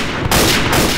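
Gunfire in the video game Day of Defeat: Source: loud, dense bursts of shots cracking in quick succession, two rapid volleys close by with a short gap between them, no talking.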